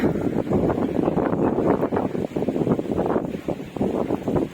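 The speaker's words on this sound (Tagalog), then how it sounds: "hangin dito mga lods" Continuous gusty wind buffets the microphone with a rough, rumbling roar that swells and dips throughout.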